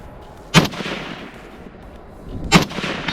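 Two loud, sharp rifle shots ring out about two seconds apart at an outdoor shooting range training complex, each followed by a rolling echo, with no voices.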